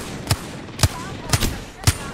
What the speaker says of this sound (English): I'm shooting the guy on this side.